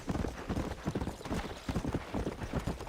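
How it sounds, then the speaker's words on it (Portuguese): A horse gallops in the Red Dead Redemption video game, a rapid, continuous drumming of hoofbeats in a steady rhythm, close and loud with a rushing background. "Olha a velocidade desse cavalo"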